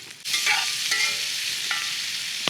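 O'Brien potatoes, salted, sizzle in a cast iron pan over a campfire, starting with a sharp hiss as they hit the hot surface, then a steady close frying crackle with scraping stir sounds and no talk.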